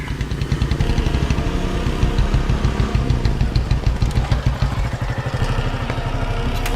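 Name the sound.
motorcycle engine arriving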